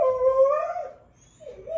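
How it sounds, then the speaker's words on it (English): A dog howls in a long, rising, nasal whine that bends down and breaks off, then after a short pause lets out another whimpering howl, close and fairly loud with no talk. "Sorry about my weird dog."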